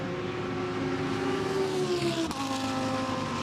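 A race car in night practice at the Spa 24 Hours endurance race accelerates hard, its engine note climbing steadily before a sharp break at an upshift, then pulling on again, loud and continuous without any talk.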